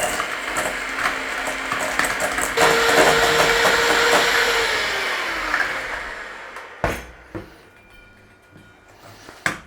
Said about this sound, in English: Cream up the butter and sugar.